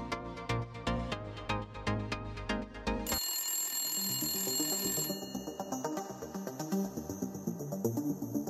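A telephone rings: a bright electronic ringtone enters midway over quiet background music and repeats steadily, soft and without talk.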